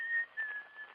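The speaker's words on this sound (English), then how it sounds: "That tune you're whistling." A person whistles a short tune, a clear, thin, steady tone with a brief gap, close and fairly quiet.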